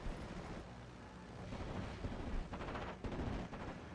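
Bofors anti-aircraft gun fire in a WWII battle game, heard as a dense, loud, continuous mix of rapid gunfire and rumbling, with sharper bursts of shots toward the end.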